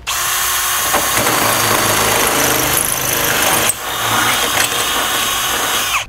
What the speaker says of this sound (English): Now I'm coming back with a 1/2 inch drill bit to make my holes a little bit bigger